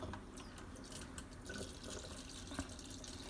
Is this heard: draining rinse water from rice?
yes